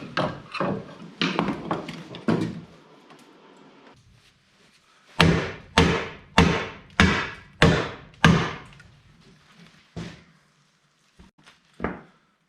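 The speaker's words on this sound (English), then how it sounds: "Nothing a little hammering can't fix." Sharp hammer blows on rusted metal body mounts ring out in uneven clusters, a rapid run of five or six strikes in the middle, loud and close with brief silences between.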